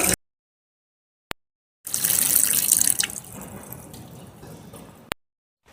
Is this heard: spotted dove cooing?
no